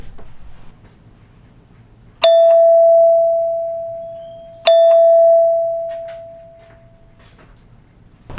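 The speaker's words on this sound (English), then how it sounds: "Let me go push the doorbell button out by the door and see if it works." A hardwired doorbell chime, temporarily hooked up during a home addition build, rings twice: two bright single-note dings about two and a half seconds apart, each sustaining and slowly fading, loud and close against a quiet room.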